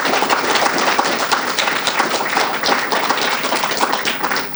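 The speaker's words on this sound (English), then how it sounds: "Let's give him a big, giant round of applause." Loud, dense clapping from a forum audience, many hands striking in a busy, continuous patter for several seconds with no speech over it.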